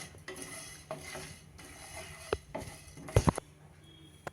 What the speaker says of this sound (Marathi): आता धणे घालून भाजूया धणे थोडेसे दोन मिनटं परतून झाले